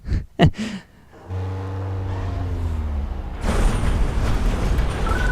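Upgraded car engine in Need For Speed Underground 2 after an ECU tune: a sharp pair of menu-like clicks, then a steady low engine drone with rising harmonic whine, building into a louder, broader roar as the car accelerates.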